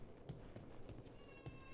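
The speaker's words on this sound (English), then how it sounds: "No, she's my cat." A pet cat meows faintly in a quiet indoor setting, a few soft short calls against low background noise.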